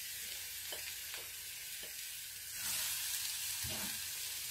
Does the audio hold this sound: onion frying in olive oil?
yes